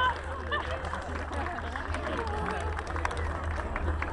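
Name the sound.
crowd applause at a pig race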